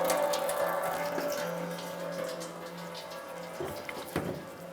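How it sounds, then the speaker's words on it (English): Engine coolant drains from a disconnected heater hose on a 1994-2004 Chevrolet S-10 into a drain pan, a steady close splashing trickle that runs the whole time with a few small knocks near the end. "Let the system drain out."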